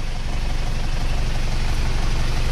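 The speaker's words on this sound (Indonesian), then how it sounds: "Ini mesinnya kondisi stasioner berada di 750 rpm, 800-an ini." A car engine idles steadily at about 750–800 rpm, on a high-mileage engine with roughly 528,000 km, giving a loud, continuous low rumble heard up close with no talking.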